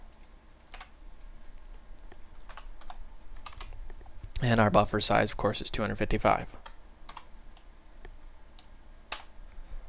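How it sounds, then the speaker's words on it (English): Rapid bursts of typing on a computer keyboard, sparse clicks at first then a dense flurry of keystrokes, with someone speaking in between. "that was a lot of typing."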